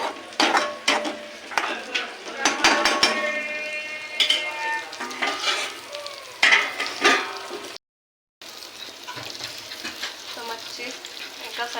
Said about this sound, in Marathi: खोबऱ्याच्या वाटणामध्ये आपण चांगलं फ्राय करून घेऊ झाकण मारून